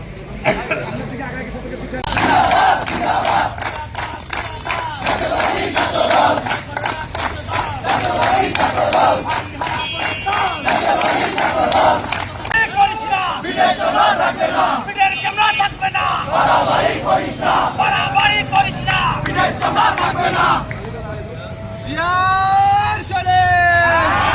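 A large crowd of students chants slogans in unison at a street protest in Bangladesh against cyberbullying of female students, loud, rhythmic and sustained throughout, with shouted lead calls and a brief lull near the end.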